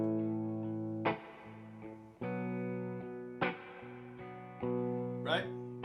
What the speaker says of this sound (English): So you hear I got a little spring reverb in that loop.